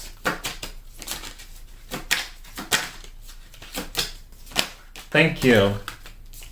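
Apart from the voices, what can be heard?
tarot cards being drawn and shuffled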